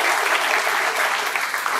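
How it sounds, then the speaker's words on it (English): Audience applause at a business talk on digital marketing, dense continuous clapping from a crowd, loud and sustained throughout. "Okay, shall we give a big round of applause to Sabrish?"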